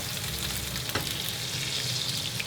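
Steady, bright sizzling of ribeye steak frying with butter in a hot pan, continuous crackle throughout with a brief sharper pop near the start.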